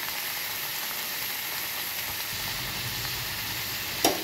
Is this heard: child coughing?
no